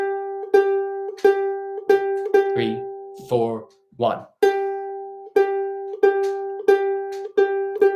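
Guitar plays the turnaround section of a song in steady repeated plucked chords, with a voice counting aloud in the middle between them.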